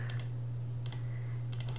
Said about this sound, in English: I'm gonna hit B on the keyboard